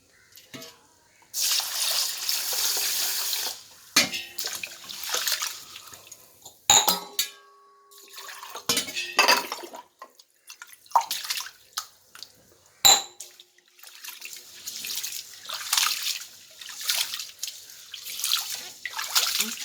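Running water splashes in bursts alongside clinks and scrapes of a pot, with intermittent pouring and swishing as rice is rinsed by hand for biryani.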